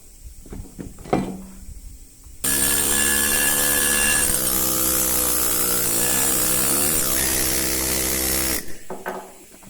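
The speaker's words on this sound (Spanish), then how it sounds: "estoy desbastando con el martillo neumático" A pneumatic hammer roughs out alabaster stone while a Möbius strip is carved, running as one loud, continuous buzzing burst for about six seconds after a few faint knocks, then cutting off abruptly.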